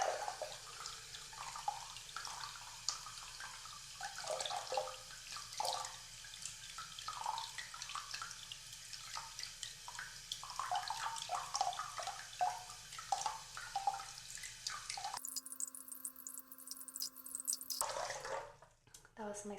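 Faucet water rinses a Monstera Albo tissue culture plantlet at a sink, a steady running stream with splashes and drips as the plantlet is handled, ending with a brief burst of louder water.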